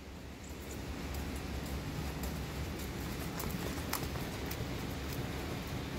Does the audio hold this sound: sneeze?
no